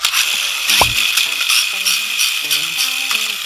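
A spinning-top toy gun that fires six tops, its lever yanked back to set a top whirring: a quick ratcheting mechanical burst, then a steady close whir with light clicking gear rattles.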